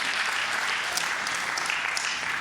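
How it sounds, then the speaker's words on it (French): Congregation clapping at a French-language church service during worship, a dense, even round of applause that holds steady throughout without any voices on top. "Donnez-vous une main d'applaudissement à ceux qui arrivent en temps, à la louange"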